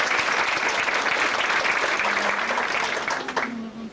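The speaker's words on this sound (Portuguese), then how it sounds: "palmas para ela" Audience at a legal lecture on same-sex civil union applauding a doctor in attendance, sustained dense clapping that thins toward the end as a voice begins speaking.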